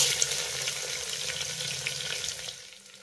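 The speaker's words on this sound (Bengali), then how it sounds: "এবার মিডিয়াম ফ্লেমে এই পেঁয়াজটাকে আমি খুব সুন্দর একেবারে লাল লাল করে ভেজে নেব" Four medium chopped onions fry over a medium flame in oil with whole spices, producing a close, busy sizzle with stirring that slowly fades in level.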